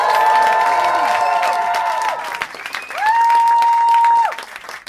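A comedy roast crowd claps and cheers loudly for a performer named Elizabeth, a dense, steady wash of applause with a few whoops, rising again after a brief dip.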